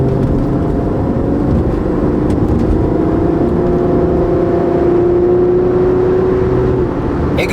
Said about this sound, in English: this is a 2010 Honda Accord. It's not the most sporty car, but it like accelerates.